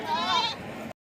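A large male goat bleats once, loud and close, in a single drawn-out wavering cry lasting under a second at a weekly sheep and goat market in Kadiri.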